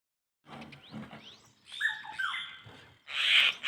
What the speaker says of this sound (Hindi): ये देखिए दोस्तों, इन चिड़ियाओं की आवाज़ सुनने के लिए मेरे तो कान ही तरस गए थे।